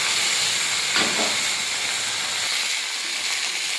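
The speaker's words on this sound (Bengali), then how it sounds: "পেঁয়াজটা ভাজা ভাজা হয়ে গেছে, এবারে কচু আলুটা দিয়ে দেবো।" Chunks of taro and potato hit hot oil with browned onions and nigella seeds for a Bengali fish curry, setting off a loud, steady sizzling hiss that slowly eases over a few seconds, with no voices.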